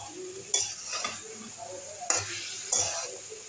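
Cauliflower stir-fried in a pan for a Bengali kalibaush fish curry, with a steady soft sizzle and several sharp scraping stir strokes of a utensil against the pan, close by, no talk.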